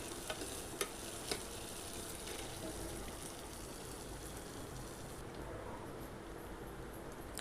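Leftover chapati pieces with peanuts and coriander sauté in a pan, giving a steady, moderate frying sizzle with a few sharp clicks of stirring near the start, continuous throughout.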